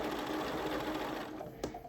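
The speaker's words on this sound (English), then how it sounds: "And then I can start sewing right there again." A sewing machine stitches binding onto a baby blanket, a steady close mechanical whir that slows near the end with a brief clack.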